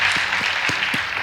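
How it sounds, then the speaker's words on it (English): Audience applause after scores are announced at a high school debate competition, steady clapping that fills the whole moment at a moderate level with no voices over it. "Please give them a round of applause."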